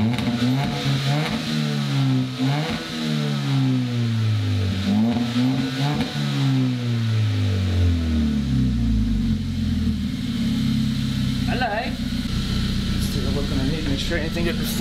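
Deep rumbling revs from a car fitted with a new full exhaust system rise and fall several times up close, then settle into a steady idle drone for the rest.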